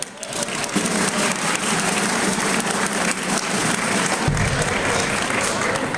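Audience applause fills a hall at a 50th anniversary gala, a steady dense clapping from a large crowd that holds loud and even throughout.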